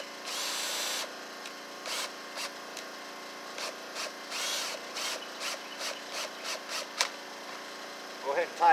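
A cordless power driver tightens a screw on a Stihl HS81 hedge trimmer, firing in a long whir and then a run of short repeated bursts, close and fairly loud, with brief clunks at the end.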